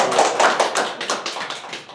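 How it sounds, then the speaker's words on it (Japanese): Applause from a seminar audience, a dense burst of many hands clapping close by that thins out over about two seconds. "拍手。"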